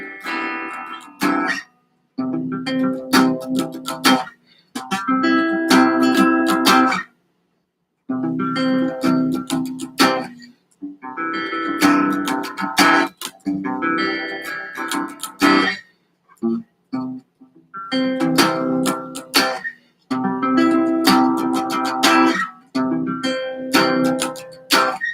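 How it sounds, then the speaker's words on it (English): Strummed guitar chords on the bottom four strings, played in short repeated phrases with brief pauses between them, bright and ringing, no voice. "Now we're going to do the bottom 4 string chords that sound like this."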